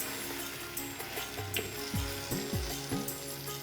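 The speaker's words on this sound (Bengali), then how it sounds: "ভাজা মাংসগুলো কষানো মশলায় দিয়ে এখন নাড়ানাড়ি" Fried chicken pieces being stirred into a spice masala in a pan, with repeated scraping and clacking strokes over a low, steady sizzle, close and without speech.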